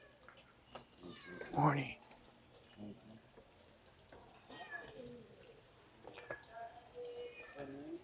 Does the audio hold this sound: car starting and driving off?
no